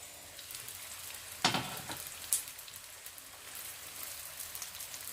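Homemade vegetable spring rolls frying in hot oil, a continuous close crackling sizzle with a couple of sharp pops and bursts as pieces are moved, no voices.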